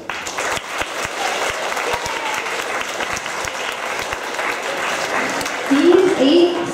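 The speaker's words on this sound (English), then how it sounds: "you come down while we applaud for you?" Sustained applause from a school spring chorus concert audience fills the room at steady loudness, with scattered sharper claps and a brief voice or cheer rising near the end.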